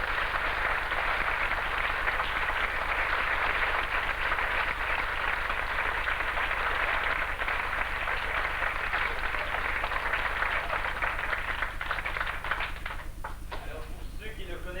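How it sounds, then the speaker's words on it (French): Sustained audience applause on a French television variety show stage, dense and steady clapping for about twelve seconds before thinning out near the end. "Je vous demande d'applaudir Monique Hillel."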